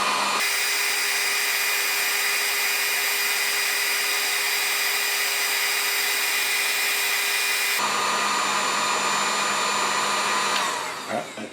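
A heat gun blows steadily as it heats a glue stick for a fishing rod tip repair, a loud continuous whirring hiss that shifts slightly in tone partway through before cutting off near the end.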